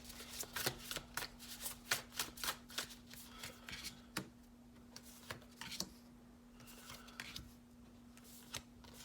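Tarot cards shuffled by hand close up, a quick run of crisp riffling flicks and slaps that slows into sparser taps, quiet over a faint steady hum.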